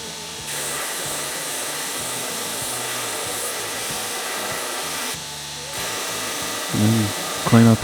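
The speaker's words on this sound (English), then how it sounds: "Just drill all my pinholes." A drill runs steadily, bores pinholes in the tang of a forged knife replica, and holds a continuous whine with brief pauses, then rises in pitch near the end.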